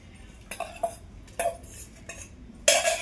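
Green chillies dropped into a stone mortar for chutney, with a few light clinks and knocks spaced out, then a louder rattle at the end, close and with no talking.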